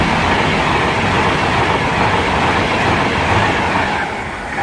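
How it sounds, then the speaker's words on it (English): Virgin Pendolino train from Glasgow Central to London Euston on the West Coast Main Line at Winsford, a loud, close rushing roar with rail clatter as it passes, easing slightly at the end. "the day is going to be a Virgin Pendolino from Glasgow Central to London Euston"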